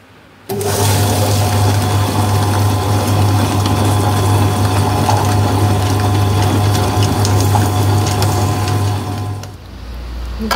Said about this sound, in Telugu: మళ్ళీ గ్రైండర్ ఆన్ చేస్తాను